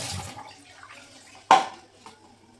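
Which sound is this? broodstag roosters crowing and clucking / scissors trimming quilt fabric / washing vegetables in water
washing vegetables in water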